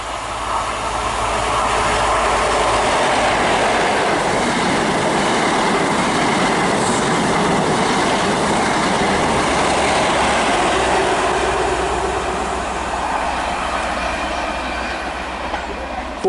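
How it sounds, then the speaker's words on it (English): A cross-country HST train from Leeds to Plymouth passes through Ivybridge station, a steady, loud rumble of wheels and clickety-clack on the rails sustained for the whole passage with faint squealing. "passing through now is a cross-country HST from Leeds to Plymouth"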